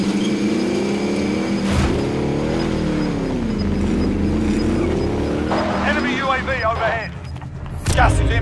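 A car driven in Call of Duty Warzone, its engine a steady low droning hum held throughout, close and continuous, with voices talking over it and a brief burst of noise near the end.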